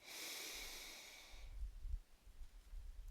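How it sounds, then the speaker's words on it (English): A slow, deep inhalation during a guided meditation ritual, a close, airy hiss drawn in through the nose that fades into soft, low breath noises, quiet and unaccompanied by speech. "Breathing in deeply."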